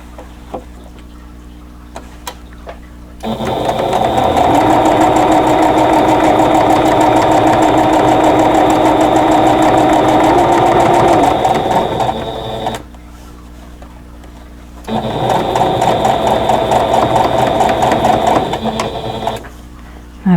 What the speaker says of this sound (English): And then I'm going to sew my 1/4-inch seam.